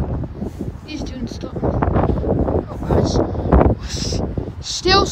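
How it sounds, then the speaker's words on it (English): Strong wind at Avon-by-the-Sea beach buffets the microphone in gusting roars, mixed with surf and rustling, while people talk close by. "It's windy here. It's windy there. It's so windy."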